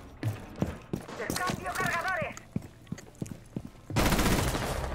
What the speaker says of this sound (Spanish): Mira cómo me está disparando el tío